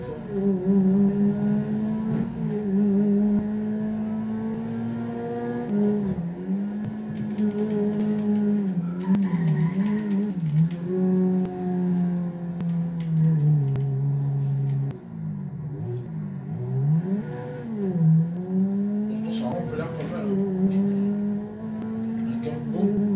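A rear-engined car in GTA 5 Online revs and drones steadily, its pitch climbing and dropping through gear changes with occasional tire squeals, loud and continuous with talk underneath.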